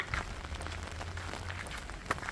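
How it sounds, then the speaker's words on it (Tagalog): Heavy rain patters steadily on a nearby umbrella by Lake Brienz, a dense hissing wash of drops with a few louder taps standing out. "Lakas ang ulan, pero buti na lang may payong tayo."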